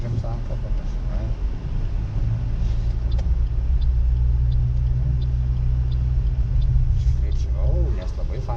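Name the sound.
car pulling away in first gear, clutch released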